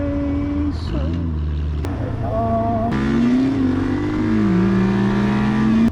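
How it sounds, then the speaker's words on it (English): A car with a manual transmission accelerates nearby, engine revs climbing through gears with clear pitch drops at the shifts, loud and steady inside the cabin. "It's nice to hear someone drive a manual instead of an automatic one of those."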